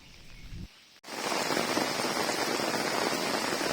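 Heavy monsoon rain in Matheran pours down in a dense, steady hiss after a brief cut, loud and continuous with no speech.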